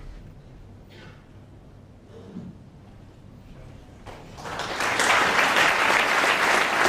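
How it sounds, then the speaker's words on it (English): Audience applause at the 2007 World Snooker Championship quarter-final, Ronnie O'Sullivan against John Higgins, rewarding a safety shot: a quiet arena hush gives way to sustained, loud clapping that swells and holds to the end. "applause that safety shot"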